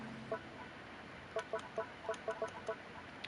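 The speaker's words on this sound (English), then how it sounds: "are these new birds again?" Soft clucking bird calls in the Genshin Impact video game, a series of short paired chirps repeating in quick uneven bursts over a quiet ambient background.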